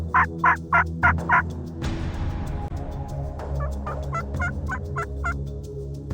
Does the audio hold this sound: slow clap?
no